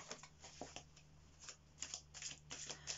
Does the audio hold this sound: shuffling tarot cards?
yes